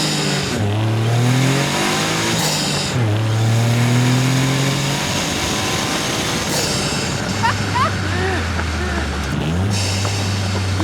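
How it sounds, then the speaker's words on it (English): A Caterham 170S's 660cc three-cylinder turbocharged Suzuki engine revs and pulls through the gears, its pitch climbing and dropping at each shift, with faint talk over the drone. "3-cylinder, 660cc, Suzuki engine."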